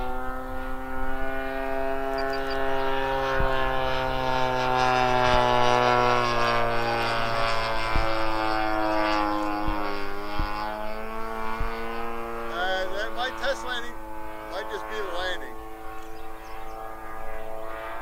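A Stampe SV4 biplane's propeller engine drones steadily in flight, loud and close, with a smooth, continuous buzz that slowly shifts in pitch and has no speech over it.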